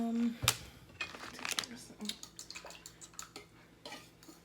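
Utensils clink and scrape against a pot while a seafood boil of crab legs, broccoli and little onions is stirred, a sharp clatter early followed by irregular metallic knocks and taps close by, with people talking around it.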